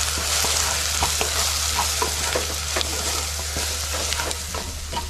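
Red masala, garam masala and turmeric stir-frying with tomatoes for a shevga, vang and batata aamti, a steady close sizzle broken by repeated spoon scrapes and stirs throughout, with no talking.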